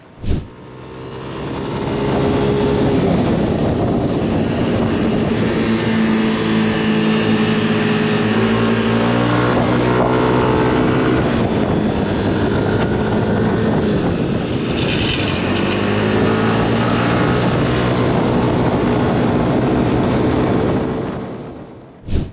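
A Yamaha Aerox Alpha 2025 scooter ridden through corners, its engine a loud steady drone that rises and falls in pitch as it slows under engine braking and picks up again, heard close with wind rush.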